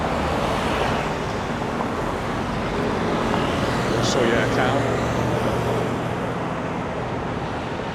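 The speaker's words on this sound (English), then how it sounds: "And there's the bus, if you want to go on the bus to Port de Soller" Street traffic on a busy road in Palma de Mallorca where a bus passes, a broad steady rumble of engines and tyres with a low drone, under someone talking.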